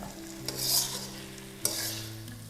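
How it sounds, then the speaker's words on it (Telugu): Chicken pieces sizzle in hot oil for fry piece biryani, with a steady crackling hiss and two sharp scraping stirs of a spoon in the pan, close up. "మన ఫ్రై పీస్ బిర్యానీలోకి ఫ్రై రెడీ అవుతుంది అనమాట."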